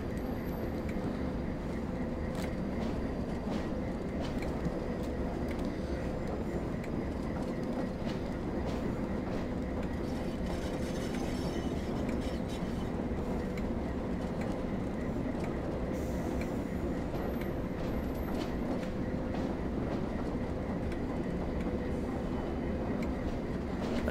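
Train in the Train Sim World 4 simulator on a Northern Trans-Pennine route, rolling steadily with a continuous rumble, rhythmic wheel clicks and faint squeals, heard from inside the cab with no voices.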